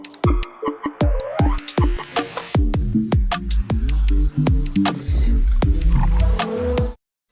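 A remixed song with reworked drums plays: sharp, regular percussive hits drive a dense backing of sustained tones and heavy low bass, loud and continuous for about seven seconds before cutting off abruptly, with no voices over it.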